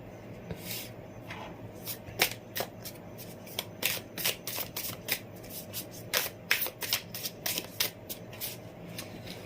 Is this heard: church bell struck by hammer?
no